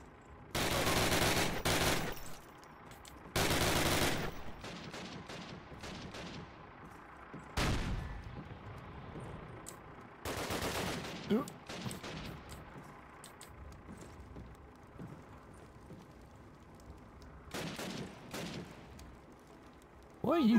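Bursts of gunfire from Call of Duty (original and United Offensive), World War II combat with a German tank approaching: several loud broadband volleys and single shots come in bursts across the span, alongside quieter battle noise, with voices talking at times.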